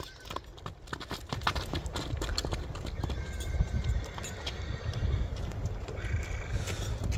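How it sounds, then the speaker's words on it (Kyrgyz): A young horse being shown off at a sale, hooves clip-clopping steadily on the ground with an occasional neigh, moving at close range over a constant outdoor background. "экинчи номердеги Жунустун өспүрүм тайын көрсөтөлү"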